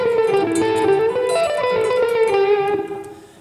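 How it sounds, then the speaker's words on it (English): Electric guitar plays a quick blues run to close out a solo, a string of picked and bent notes heard up close and alone, tapering off at the end. "Okay, so now we close out this solo with this fun little run that sounds like this."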